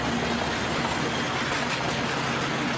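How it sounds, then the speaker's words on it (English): A smoky jet-engine train in Rio roars past as a steady, dense broadband rush, loud and unbroken throughout with no talk. "I think few have seen such a smoky train in Rio."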